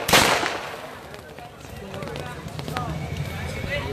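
Firecrackers crackle and pop in a burst at an Eid gathering, loudest at the start, then continuing as a dense, noisy clatter over a crowd murmur and speech.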